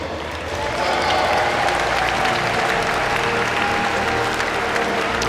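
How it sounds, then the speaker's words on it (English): Light, steady applause from a crowd during a medal ceremony at the junior track cycling world championships in Aigle, Switzerland, a continuous patter of clapping in an indoor velodrome. "Light applause from the Danish contingent."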